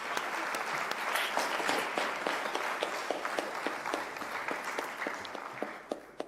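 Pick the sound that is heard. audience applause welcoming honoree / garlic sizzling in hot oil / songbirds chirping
audience applause welcoming honoree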